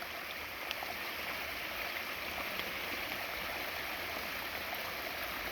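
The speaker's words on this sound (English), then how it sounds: "27 gazillion little steps as the water comes down the limestone" Steady rushing water cascading over many small limestone steps after a storm, a continuous close wash of splashing and gurgling with no voices.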